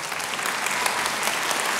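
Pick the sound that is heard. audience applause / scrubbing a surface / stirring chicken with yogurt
audience applause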